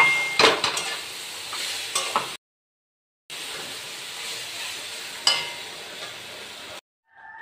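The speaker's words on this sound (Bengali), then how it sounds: "আদা দিয়ে জিরে ফোড়ন, কালো জিরে ফোড়ন দিয়ে টমেটো দিয়ে আমি তা কষে নিচ্ছি" Spices and tomato sizzle and are stirred in hot oil with ginger, cumin and nigella seeds for a soybean curry. The stirring scrapes come close, with two brief silent gaps.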